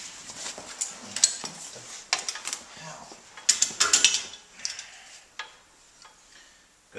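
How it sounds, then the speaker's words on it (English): A 1966 van's drive shaft being unbolted from underneath, heard as a close, irregular series of ratcheting clicks, metallic clinks and tool taps in short bursts with brief pauses between them. "I just gotta go under here, disconnect this drive shaft a little bit."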